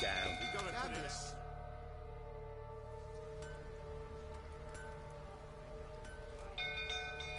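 In a video game, a bell rings with a clear metallic strike and long humming decay, quiet and set back in the mix under ambient game sound and a murmur of voices.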